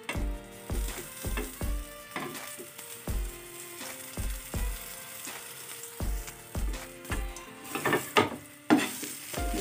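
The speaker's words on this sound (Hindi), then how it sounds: "दूसरी साइड से भी ऐसी फ्राई करते हैं" Paratha fries in ghee and jaggery on a pan over low heat, a steady sizzle broken by rhythmic scraping and stirring strokes of a spatula, close and clear.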